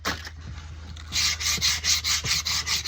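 Coarse 60-grit sandpaper rasps against a hickory axe handle in rhythmic back-and-forth hand strokes, about six even passes after a brief quieter start, close and clear.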